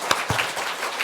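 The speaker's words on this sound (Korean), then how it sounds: "네, 우리 박수로" A church congregation at a Sunday worship service briefly claps to welcome newcomers: a few scattered, uneven claps rather than full applause, close and short-lived.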